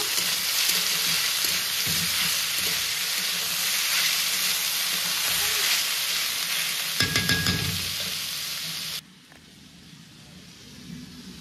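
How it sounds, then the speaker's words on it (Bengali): Potatoes fry in a pan with a continuous loud hissing sizzle and a brief burst of stirring clatter, the sound dropping abruptly to a quieter hiss near the end. "আর এখানে আমি আলু ভাজা করছি একটু"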